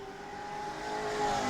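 A pro race truck runs alone on the New Smyrna track, its engine a steady, fairly loud drone that swells slightly as it approaches.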